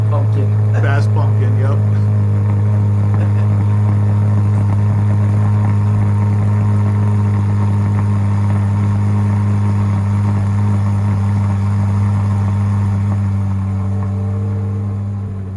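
Chevrolet C8 Corvette Z06 engine idling loudly and steadily up close, a deep constant drone with a brief burst of voices near the start.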